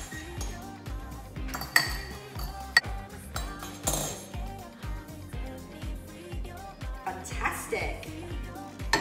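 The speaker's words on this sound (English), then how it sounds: "Okay, now give that a quick whisk." An egg is whisked in a bowl, giving a steady run of quick utensil clinks and scrapes against the bowl under a person's talking.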